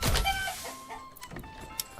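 Chickens at coops in the medieval village game Manor Lords, a few short, fairly close clucks and squawks that are loudest at the start and then trail off into quieter scattered calls.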